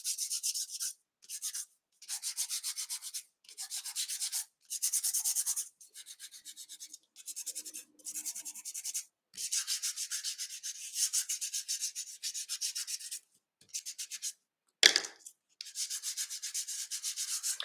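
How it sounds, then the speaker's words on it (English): Embossed designer series paper being scuffed gently and repeatedly with an abrasive, making a series of short, dry rubbing strokes in a steady rhythm, close up and alone. "I'm just going to gently scuff up the raised parts of my embossed designer series paper layer."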